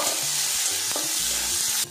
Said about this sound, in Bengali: টমেটো মশলার সাথে একটু ভাজা ভাজা করে নেব